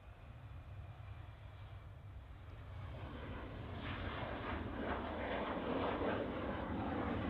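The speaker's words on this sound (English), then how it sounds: "TAP Express just rotated off 23 right, and just rotated off my screen off to Lisbon." A TAP Express Embraer E195 jet takes off from runway 23 right at Manchester, its distant engine roar building gradually louder and rougher over the span with no voices.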